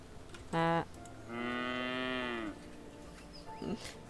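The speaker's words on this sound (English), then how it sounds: "if we poke the cows, look," Cows in the video game Station To Station moo when poked, giving two distinct close moos, a short one followed by a longer drawn-out one, with faint clicks between.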